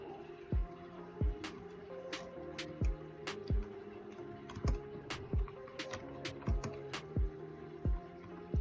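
Someone types text on a computer keyboard while writing HTML code, producing about a dozen crisp, close key clacks at an uneven pace with short pauses between them, over a soft steady background hum.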